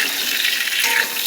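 Potatoes frying in hot oil while being stirred, giving a steady bright sizzle with faint scraping throughout a brief moment.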